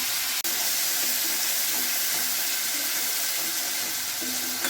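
Spice paste of cumin, ginger, turmeric and chilli sizzling in hot oil for kacha kola kofta curry, a steady, even hiss with no talk, just after one brief clack at the start.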